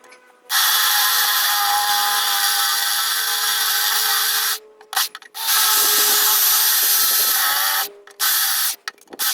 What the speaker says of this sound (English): I'm going to get to work drilling some spot welds out.